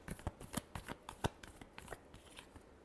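Tarot cards are shuffled by hand at close range, a quick series of crisp riffling flicks and taps in an irregular rhythm for about three seconds, quiet, with no talking.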